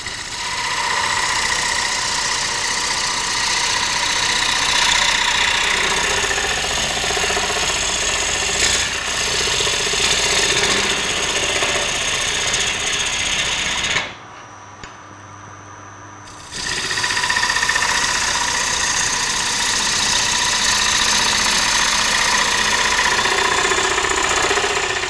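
A wood lathe turns the inside of a walnut bowl, giving a steady, loud mechanical whir with rough scraping texture as the tool cuts, briefly dropping out mid-clip before resuming at the same level.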